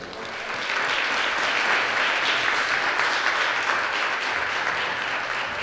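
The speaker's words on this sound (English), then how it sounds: "please give a round of applause for the Reverend Terrence King of the AME Zion Church." A crowd at a community event applauds a pastor of the AME Zion Church, steady dense clapping that swells quickly after a brief start and holds loud and even throughout, with faint voices mixed in.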